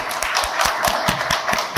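Rhythmic clapping at a church book concert, about a dozen evenly spaced claps in a steady beat, fairly close and clear.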